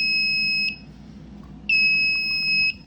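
Fire alarm control panel in system trouble mode sounding two long, loud electronic warning beeps, each about a second long and separated by a short gap, with no talking.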